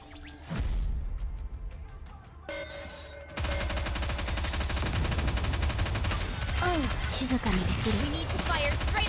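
Gunfire in the mobile game Nikke: Goddess of Victory, with dense, continuous automatic bursts running loud and close after a short opening volley, layered over game music, impact effects and brief voiced callouts.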